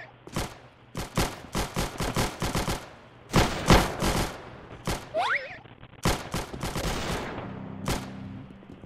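Gunfire in the Roblox shooter game Arsenal: rapid, loud bursts of shots in quick clusters, separated by short gaps, with no talk over them.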